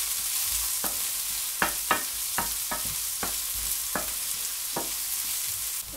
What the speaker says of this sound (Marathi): आपण कांदा टाकायचा आहे, नाहीतर मग त्या मिरच्या उडतात सगळीकडे, चटका बसतो। फ्राय करून घेऊया चांगलं।